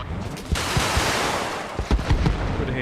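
Rockets fired from a Huey helicopter in a military video game, a dense rumbling barrage of blasts with sharp impacts near the start and a cluster of heavier bangs toward the end.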